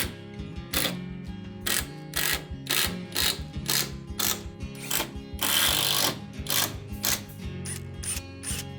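A power screwdriver drives screws through a notch in a vertical wooden louver straight into a house entrance wall, producing repeated short ratcheting bursts at a steady rhythm, close and fairly loud.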